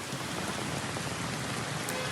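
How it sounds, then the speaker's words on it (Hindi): Heavy rain falls in a steady, dense hiss of drops striking surfaces, loud and unbroken throughout with no talk. "तो बेहिसाब बरसात हो रही है।"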